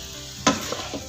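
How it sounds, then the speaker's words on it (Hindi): Noodles with vegetables and spices being mixed in a hot pan with two spoons, giving one brief scraping stir over a faint background sizzle. "2 स्पून्स की मदद से इसको खूब अच्छे से मिक्स कर लें।"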